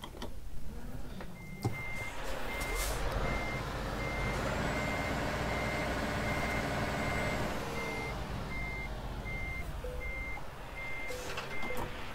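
Repeating reversing beeps from a truck in Euro Truck Simulator 2 sound at a steady, even rhythm over a continuous loud diesel engine rumble, with brief air-brake hisses near the start and end.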